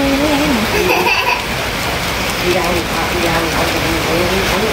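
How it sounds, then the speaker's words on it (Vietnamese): Heavy rain pours steadily at a family gathering for a memorial anniversary, a loud unbroken hiss with voices talking over it. "Mưa này gì đâu có nghe tới đâu."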